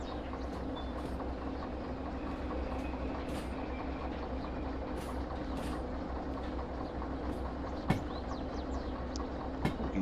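A locomotive running in the Derail Valley train simulator gives a steady low rumble with faint rhythmic rattling and a couple of sharp metallic clunks, moderately loud and continuous throughout.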